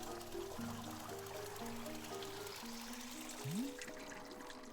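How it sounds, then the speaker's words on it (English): Water pouring from a rope-pulled tea machine in the video game Wanderstop, a steady trickle running under layered game music tones, with a brief rising swell near the end. "pull down on the rope to pour as much water as you like"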